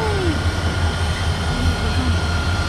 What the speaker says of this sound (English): There's a choo-choo train.